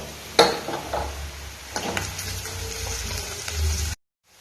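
Ginger-garlic paste, joined by green chili paste, fries in a pan with a steady sizzle while a spoon stirs it, scraping and clinking against the metal, close up with no talking.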